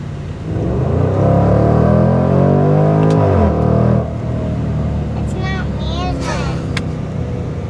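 A 2024 Jaguar F-Pace SVR engine roars loudly at high revs for several seconds, then drops back to a steadier idle drone as voices chatter faintly over it.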